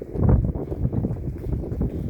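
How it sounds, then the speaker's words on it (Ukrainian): Strong gusty wind buffeting the microphone, a low rumbling roar that swells and eases in uneven bursts, with no talking. "Бачите, який вітер, ну прямо страшний."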